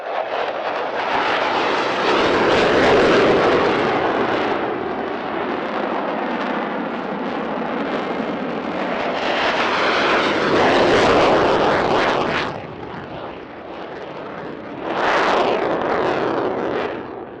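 Two French Air Force Mirage 2000 jets fly a tactical display at an airshow, their loud engine roar swelling and receding in repeated close passes, with a final sharp surge near the end.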